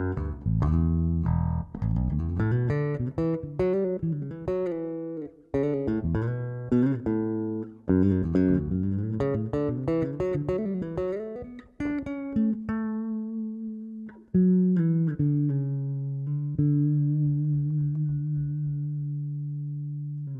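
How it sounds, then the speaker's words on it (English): An Ibanez SR375 bass guitar is played with the treble rolled off, giving a mellow, soft tone; plucked notes and short melodic runs ring out alone, with some sustained notes toward the end. "You can hear with the treble just pulled back a little bit, the bass has got a nice vintage vibe to it, nice and softer"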